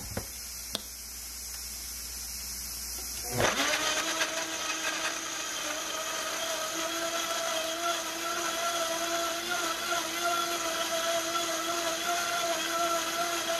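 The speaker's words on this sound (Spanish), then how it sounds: "Y vamos a licuar." A kitchen blender switches on after a short quiet pause and runs loud and steady, whirring through garlic, onion, tomatillos and pepper with a constant motor drone to the end.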